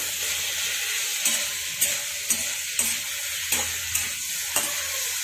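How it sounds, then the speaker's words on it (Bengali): Ground spice paste sautés in a pan for a taro stolon and prawn dish, with a steady sizzle broken by regular stirring scrapes about every half second, close by. "বেটে রাখা মশলাটা মশলার সাথে রসিটা একটু ভালো করে কষিয়ে নেবো"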